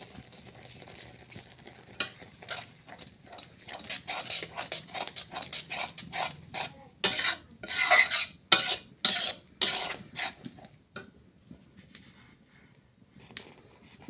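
Salt goes into a cooking pot and a spoon stirs the food, scraping and clattering against the pot in a run of uneven strokes that peak midway, close up, over a faint sizzle and with no talk.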